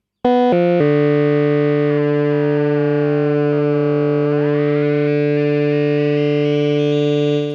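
Aparillo synthesizer holding a loud, bright sustained tone whose overtones shift in discrete steps through harmonic ratios, rising higher toward the end after a short opening burst of notes.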